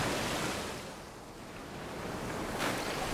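Ocean waves rolling onto a shore in Tahiti, a steady broad wash of surf with a gentle swell and fall, heard alone without voices.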